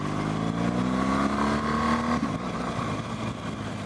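A 2017 BMW R1200 GS Rally motorcycle engine revs up, its pitch climbing for about two seconds before dropping back to a loud, steady drone, heard close with no voices.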